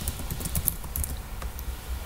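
Typing on a computer keyboard in an app demo, a quick run of light clicking keystrokes at close range, steady and alone without talk.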